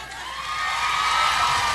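A crowd at a prize contest bursts into cheering and clapping, a broad wash of noise that swells over under two seconds and holds loud at the end.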